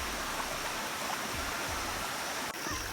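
A mountain stream rushes steadily nearby, a dense continuous wash of flowing water with no voices over it.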